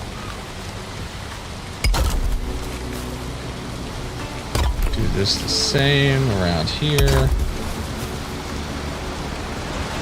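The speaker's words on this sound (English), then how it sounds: "And of course it's raining!" Steady rain hisses without letup across a Valheim landscape, broken by a few short thumps and clunks, while someone talks over it for part of the time.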